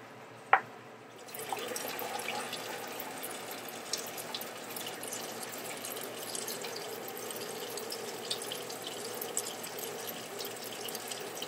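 A kitchen faucet runs steadily into the sink while hamburger grease is drained, with a sharp clink at the start and then a constant rush of water.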